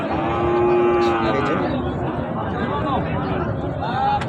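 At a busy cattle market near the Indian border where Sahiwal bulls are traded, one cow lets out a long, loud moo over constant crowd chatter, with further lowing later amid the din.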